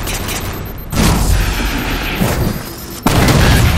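Rocket explosions and gunfire in a Halo 4 multiplayer Slayer match on the Landfall map, with loud continuous battle noise and two sharp blasts hitting near the start and again toward the end.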